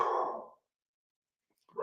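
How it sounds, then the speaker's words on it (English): A dog barks twice, once at the start and again near the end with a pause of silence between, fairly close and unaccompanied by talk. "There's my dog barking again"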